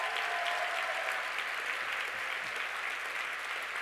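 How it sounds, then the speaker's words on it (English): An audience at a corporate closing event for a legal software company breaks into dense, continuous applause, a full, even wash of many clapping hands that stays loud and steady throughout. "let's give a big round of applause to Team Clio,"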